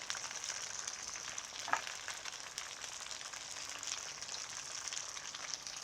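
Crab stir-frying in hot oil as jalapenos go into the pan, a steady close sizzle with a fine crackling hiss that holds evenly throughout, with one brief louder pop midway.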